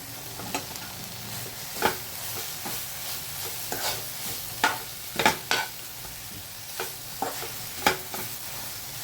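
Roasted brinjal bharit with plenty of coriander sautéed in a pan, a steady low sizzle broken by a series of sharp scraping stirs of the spatula against the pan, close and fairly quiet.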